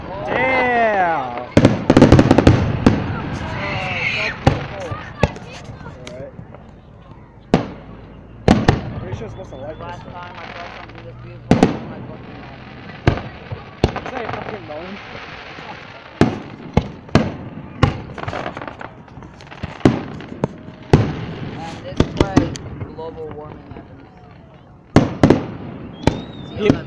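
Fourth of July fireworks bang and crackle in repeated bursts, some loud and sharp, others distant, with people talking and whistling tones rising between explosions.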